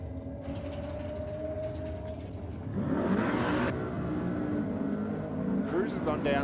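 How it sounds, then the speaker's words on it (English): A 6-cylinder drag car launches off the start line at a night drag and burnout event in Sydney, a steady engine drone swelling into a louder rising roar partway through, with a commentator talking over it. "It's the 6-cylinder in reload, and it just unloaded off the start line."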